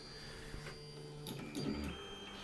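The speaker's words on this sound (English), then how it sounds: "As you can see, the printer is homing" A Tevo Tornado 3D printer homes its axes, giving off quiet, close whirring stepper-motor bursts in a few short movements over a low steady hum, with no talking.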